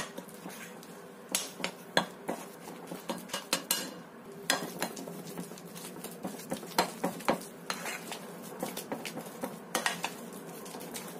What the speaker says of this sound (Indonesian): Ini aku tambahkan 1 butir telur. Kita kocok sekalian di sini.